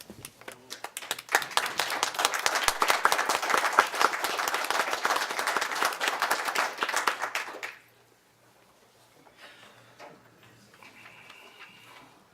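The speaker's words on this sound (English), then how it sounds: "we'll stand with the applause" An audience at a county board meeting gives a burst of dense, loud applause for about eight seconds, then it cuts off into near quiet with faint room noise.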